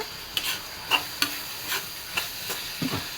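Duck egg thoran with beans, carrot, salt and curry leaves being stirred in a frying pan: a handful of distinct scraping stirs over a soft, steady sizzle, close and fairly quiet, with no talking.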